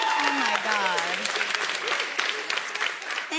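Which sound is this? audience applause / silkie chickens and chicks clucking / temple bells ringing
audience applause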